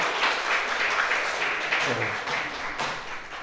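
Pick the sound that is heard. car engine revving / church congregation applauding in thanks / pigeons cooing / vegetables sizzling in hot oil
church congregation applauding in thanks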